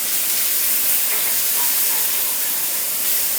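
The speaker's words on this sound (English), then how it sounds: "we got a nice little sizzle whizzle going on in there" Flour cooking out in hot beef fat and oil in a pan gives a steady, close sizzle and hiss that holds evenly with no pauses.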